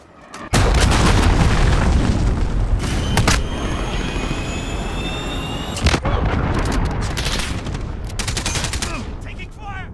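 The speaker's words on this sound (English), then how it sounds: "Enemy cruise missile." Cruise missile explosions and gunfire in Call of Duty Modern Warfare multiplayer, loud booming blasts over rapid weapon fire, with sharp impacts and a steady roar of battle throughout.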